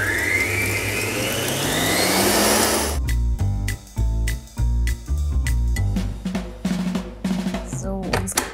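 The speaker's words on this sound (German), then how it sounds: "Dafür gebe ich die zimmerwarme Butter in die Rührschüssel und schlage sie für ein paar Minuten schaumig auf" An electric mixer whips room-temperature butter in a mixing bowl, a rising loud whir for the first few seconds, then stops and gives way to clinks, knocks and short handling sounds.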